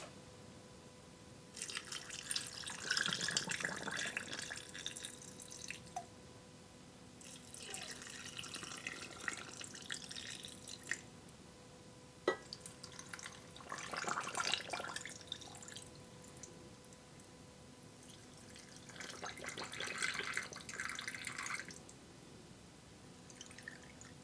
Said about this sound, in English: now I'm going to go ahead and I'm going to fill these up with some cold water